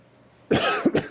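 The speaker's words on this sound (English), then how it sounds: "excuse my cough." A single person coughs sharply a few times in quick succession, close and fairly loud, after a moment of quiet.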